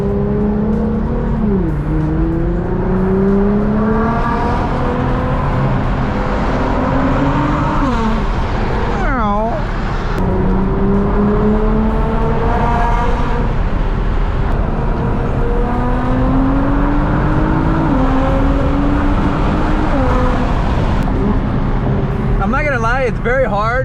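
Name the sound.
Nissan GTR car driving and accelerating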